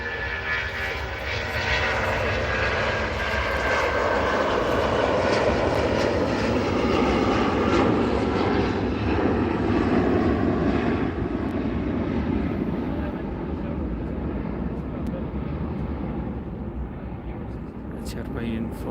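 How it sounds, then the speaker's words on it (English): Jet engines of a KLM airliner roar loudly and steadily at Manchester Airport, a broad sustained rumble and whine that slowly swells and eases, with a person talking in the background. "Waiting for the KLM in front to get on the runway"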